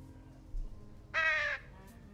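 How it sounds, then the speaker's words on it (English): A bird in a point-and-click video game gives one loud, harsh caw lasting about half a second, just after a short thump, with no one talking. "Here come the birdies!"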